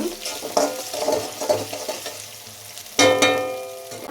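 Potato paste and green chilies sizzle in a pan as a spoon stirs and scrapes in several bursts, the loudest clatter near the end.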